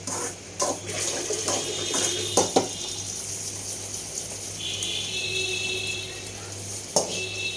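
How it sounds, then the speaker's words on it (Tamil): Water runs and splashes steadily into a pot of rice set to soak, with a few clinks of metal and faint background hum throughout. "தண்ணி ஊற்றுவோம்."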